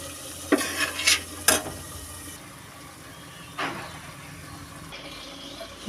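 Chicken pieces are stirred in a pot for a Telangana-style chicken curry, producing a quick cluster of scraping clatters, then a later single scrape over a low, steady sizzle.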